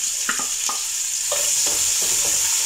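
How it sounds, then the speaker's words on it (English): Onions frying in a pan for vegetable rice, a steady close sizzle broken by several short stirring scrapes. "So in a pan, I'll fry my onions."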